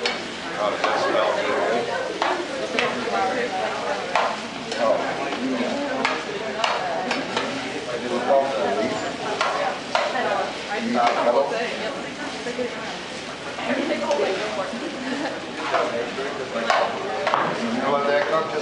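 Plant-based stir fry sizzles steadily in a hot pan during a cooking demonstration, with stirring and scraping clatter throughout and talk over it.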